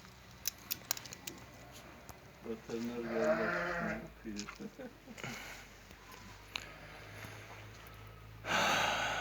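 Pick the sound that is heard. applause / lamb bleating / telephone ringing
lamb bleating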